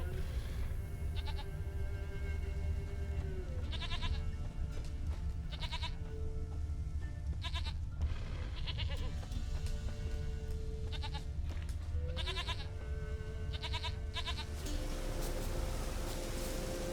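Goats bleat in The Witcher 3 video game, giving about a dozen short, wavering calls spread at irregular intervals over a steady outdoor ambience.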